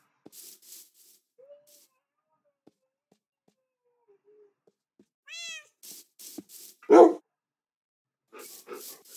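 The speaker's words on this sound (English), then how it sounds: "Also, I'm gonna spawn one cat." A cat meows once in a video game, a short rising cry set among sparse clicks and other brief game sounds with near-silence between them.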